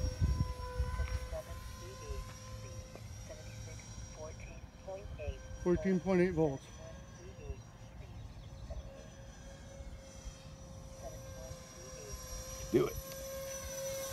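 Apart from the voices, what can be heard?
model B-2 Spirit aircraft flying overhead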